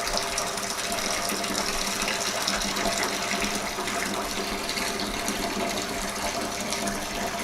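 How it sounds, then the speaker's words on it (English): Hot water gushes steadily through an opened valve out of a mash tun during whiskey mashing, a continuous close splashing pour with no pauses. "I'm going to drain this out, and then what I'll do is shut my valve, fill back full of hot water"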